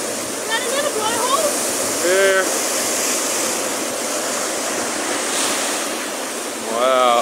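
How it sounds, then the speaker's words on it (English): Ocean waves surge and rush through a coastal blowhole at Lucy's Beach, Greenough, near high tide: a steady roaring wash of water with faint voices and brief chirping calls over it. "Is that another blowhole?"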